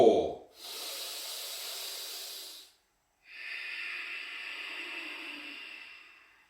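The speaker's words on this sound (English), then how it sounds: "Slow, soft, continuous breath." Slow, soft, continuous breaths during Ashtanga yoga practice: a hissing inhale and a longer airy exhale, close and quiet, separated by a brief pause.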